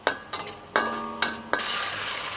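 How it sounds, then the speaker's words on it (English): Shrimp and aromatic condiments stir-fried in a pan, a spatula scraping and clinking against the metal in several sharp strokes over steady sizzling, the frying hiss swelling louder toward the end. "Stir fry it until aromatic, then we put in the shrimp"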